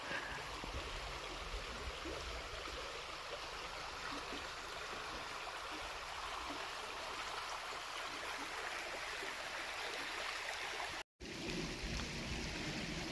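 Steady broadband rush of a river's running water fills the whole stretch at an even level, close and constant, with a brief dropout near the end and no voices.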